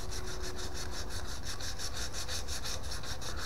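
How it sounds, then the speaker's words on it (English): A faceted four-axis bubinga wood pen sanded on a spinning lathe, a steady close rasping hiss pulsing rapidly and evenly from start to finish. "sanding this entire project with the grit, not going cross grit"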